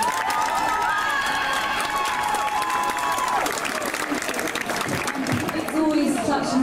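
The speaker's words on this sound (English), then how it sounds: "Big round of applause." Audience at a school event applauds steadily and densely throughout, a loud sustained clatter of clapping with some cheering mixed in and a few voices audible underneath.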